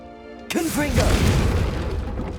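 A Confringo fire spell blasts off with a sudden loud boom, followed by a roaring, crackling burst that stays strong and rumbling to the end, with a trace of voice near the start.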